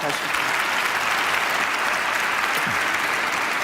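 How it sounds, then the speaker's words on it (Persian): An audience applauds a young Quran reciter with a steady, dense wash of clapping that holds at even loudness throughout, with faint voices underneath. "حالا تشویق کنیم."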